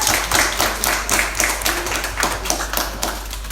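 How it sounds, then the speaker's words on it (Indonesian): A small crowd claps to welcome a guest at a live talk show in a beer-garden backyard. Close, uneven hand claps come in a loose rhythm, with a low hum underneath. "tepuk tangan dulu dong buat Ical"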